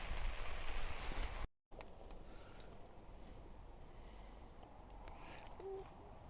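Steady rain falls on a farm in Ireland, a dense, even hiss of drops with a brief dropout near the start, continuing unbroken at a moderate, fairly close level with no voices.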